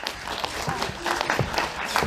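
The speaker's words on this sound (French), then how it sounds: "Applaudissements pour Marie Cipriani." An audience at a Paris short-film festival presentation applauds the organiser with soft, continuous clapping in a room, fairly quiet and steady with a few voices underneath.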